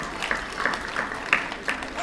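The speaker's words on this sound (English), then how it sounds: "give them a round of applause at the very first practice round" Audience applause at an elementary school spelling bee, a brief spatter of clapping at moderate distance with a few sharper individual claps standing out.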